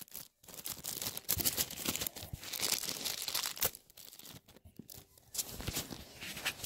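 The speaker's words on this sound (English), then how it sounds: "I'll need two hands to open this tape" Packing tape is torn and crinkled off a cardboard box in repeated, irregular bursts of ripping and crunching, close and fairly quiet, with brief pauses between pulls.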